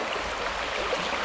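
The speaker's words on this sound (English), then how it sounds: "we've got a nice little weir here, a natural weir of logs." River water pours steadily over a natural weir of logs on an autumn river, a broad, even rushing hiss without pause, moderately close.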